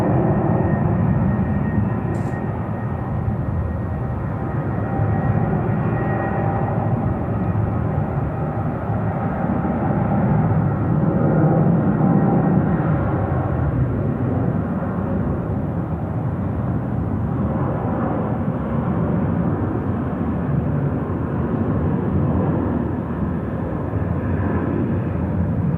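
A jet takes off at night at Sydney Airport, a loud, steady, broad engine roar that holds constant for the whole span with no talking over it.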